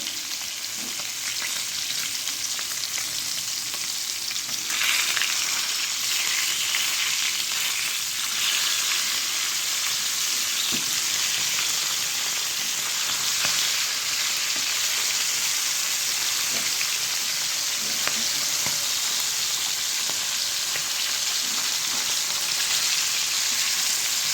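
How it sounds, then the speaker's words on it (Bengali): Puti fish sizzles in hot oil in a pan, a dense, steady crackling hiss that holds at an even, fairly loud level throughout with no one speaking. "মাছটা আমি লাল লাল করে ভাজা হয়ে গেছে"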